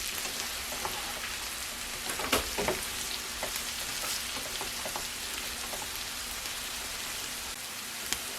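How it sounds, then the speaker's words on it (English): Peppers cook in a pan, giving a soft, even crackling sizzle like light rain, with scattered pops and no voices. "we're going to add the peppers and let them cook up"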